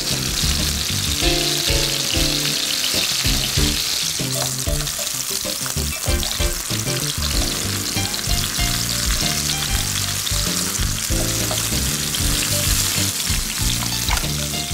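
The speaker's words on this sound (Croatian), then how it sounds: "Dodamo na pločke narezanu rajčicu i kratko je popržimo sa svih strana." Steady, loud sizzling of tomato slices frying in a pan, with frequent clicks and pops throughout and no talking.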